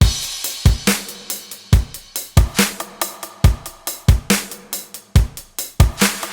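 Electronic drum pattern from the first breakdown of a produced track: punchy kicks and snappy hits repeat in a tight, steady groove, loud and upfront with no voices.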